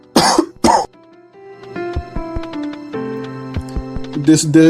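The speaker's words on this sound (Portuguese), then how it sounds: "Desculpa aqui a tosse, eu tô com um pouquinho de tosse" Two sharp coughs at the start, then a quiet stretch of soft clicks and thuds, ending with another burst of coughing.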